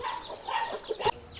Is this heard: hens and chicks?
yes